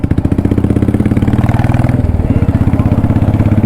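A Royal Enfield Bullet motorcycle with a broken exhaust silencer runs close by, giving a loud, steady thumping pulse with a rough, clattering edge throughout.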